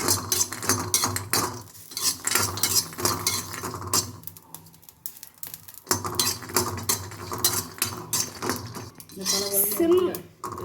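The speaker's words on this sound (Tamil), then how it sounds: "சிம்மிலே போட்டு வதக்கிக்கோங்க" A pan on low flame is sautéed and stirred, giving repeated clattering scrapes of a utensil against metal at close range, with a quieter stretch midway and a voice briefly heard.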